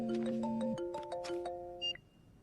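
A phone rings with a short electronic melody of stepped tones. It ends in a brief high beep, faint and alone, with no talking.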